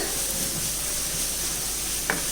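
Sliced onions sautéing in oil in a pan for tomato rice, a steady close sizzle with a brief scrape of stirring near the end.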